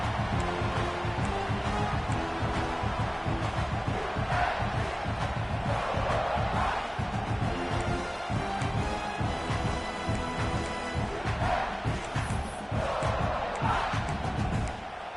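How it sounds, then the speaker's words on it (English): A football stadium crowd roars steadily at a playoff game, a loud, continuous wash of cheering and shouting with distant swells. "Listen to the crowd energy here in the early going"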